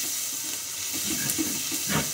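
Ginger garlic paste fries in a pan with a soft, steady sizzle, broken by a few light stirring scrapes, close and fairly quiet with no talking.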